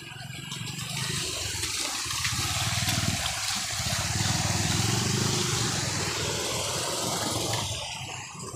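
Strong high-tide floodwater rushes in a steady continuous roar, with motorcycle engines idling nearby, swelling and holding loud for several seconds before easing off.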